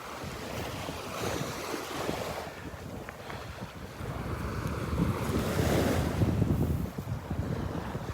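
Waves wash onto the south shore of the pass at Delnor-Wiggins Pass State Park in Florida on a quiet morning, with surf swelling and receding alongside steady wind noise and no talking.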